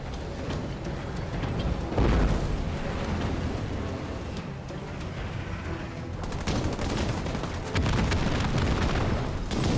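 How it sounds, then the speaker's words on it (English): Repeated heavy blasts and crackling gunfire in the real-time strategy game Halo Wars 2, with grenade explosions thudding in clusters over a dense, continuous battle din. "Those grenades are hitting extra hard."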